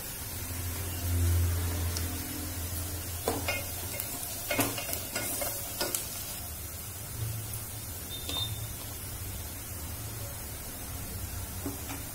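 Chopped onions frying in a pan with garam masala powder for a crab curry, a continuous soft sizzle with occasional stirring scrapes and a couple of brief knocks, nobody speaking.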